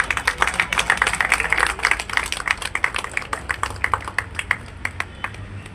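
An audience applauds to welcome guest Prabhu Dayal at a Dr. Ambedkar Bar Association seminar and honour ceremony in Agra, with steady, dense hand clapping that holds for several seconds, close and clear with little talk, then thins out gradually.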